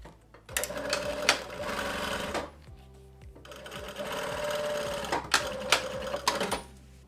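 Sewing machine stitching faux leather, running in two quick mechanical bursts of rapid needle chatter separated by a short pause, close and clear with no talk over it.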